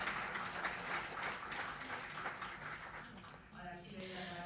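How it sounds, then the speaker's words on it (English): Applause at an international conference meeting: faint, steady clapping from the delegates in a large hall, tapering off as a voice begins speaking near the end. "Let's give it a round of applause."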